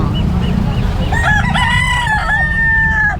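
A rooster crows loudly and up close at a pet market, with one long drawn-out call rising and holding over a steady bed of crowd noise and other fowl.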